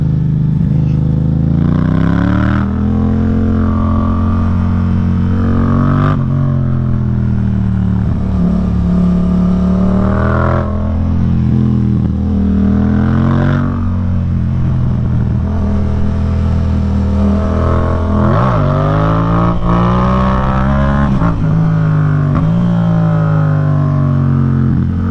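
A 2016 Yamaha MT-07 twin-cylinder motorcycle riding on the road, its engine droning loudly and steadily throughout, with pitch rising and falling as it accelerates and shifts, under a constant rumble and no talk.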